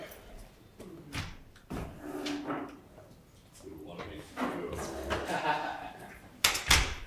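A door closes in a meeting room before a cybersecurity talk, with a sharp thud near the end. Voices and shuffling room noise come before it.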